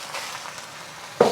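Minced pork sizzles in a wok with a steady, soft hiss of frying, and a sharper burst of sizzle comes near the end as the meat is stirred.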